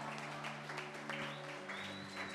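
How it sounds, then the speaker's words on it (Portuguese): A church congregation gives a round of applause for a women's ministry, with faint, dense clapping beneath sustained musical tones. "Uma salva de palmas para o Ministério Outubro Rosa."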